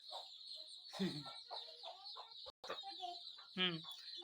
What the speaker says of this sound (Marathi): मित्रांनो ही आपली कोंबडीची पिलं